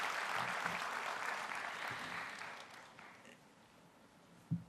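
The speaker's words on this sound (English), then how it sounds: "you do deserve a round of applause and congratulations for that" A conference audience applauds in a sustained broadband patter of many hands, fading gradually toward the end, with a single sharp knock near the close.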